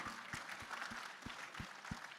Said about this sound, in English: let's give ourselves a round of applause